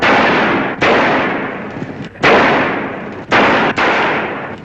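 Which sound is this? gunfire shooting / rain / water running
gunfire shooting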